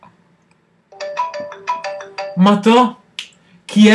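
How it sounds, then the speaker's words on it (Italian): A phone ringtone played by a fake call app, a bright electronic melody of quick repeated tones that rings loud and close, followed by a person speaking. "guardate fra 5 secondi chi mi chiama, posso scegliere anche la suoneria"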